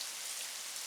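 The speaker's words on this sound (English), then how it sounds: "we've got to a point where I can add some wine" Wine poured into a simmering spaghetti bolognese sauce gives a steady, close hiss and patter that stays dense and even for a brief moment, with no voices.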